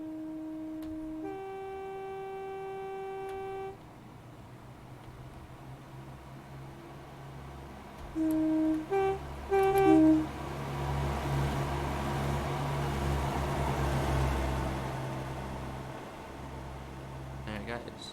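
Train Simulator's Class 142 Pacer diesel multiple unit sounds its horn in long steady tones, then a quick burst of short toots as it passes, fading away into a rising engine rumble.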